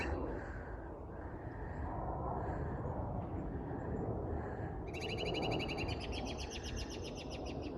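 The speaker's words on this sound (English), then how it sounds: "there's a little bit more of the robin song in there that I usually am used to" A bird sings outdoors against steady background noise, with a bright run of quick repeated notes starting about two-thirds of the way through.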